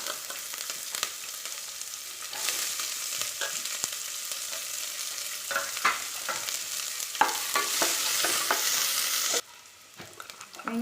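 Sliced large onions fry in a pan with a continuous sizzle, broken by occasional scraping and clinking as they are stirred, then the hiss drops off near the end.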